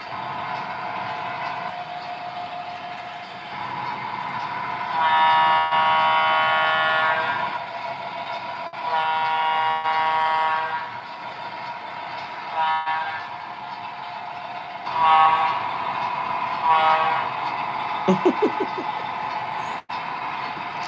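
A model train hums steadily along, its motor whirring with repeated horn-like tones and buzzing bursts, plus a few brief clicks near the end.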